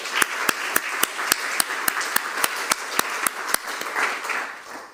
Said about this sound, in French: On peut applaudir André Michel.